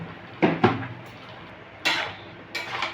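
A metal lid is set onto a cooking pot of greens after salting, giving a few sharp metallic clanks and rattles up close, spaced across a short moment of quiet kitchen background.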